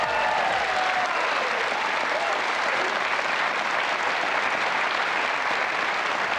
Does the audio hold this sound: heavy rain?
no